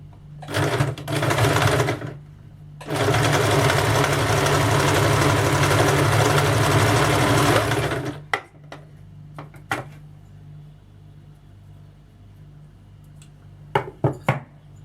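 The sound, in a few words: sewing machine stitching blouse fabric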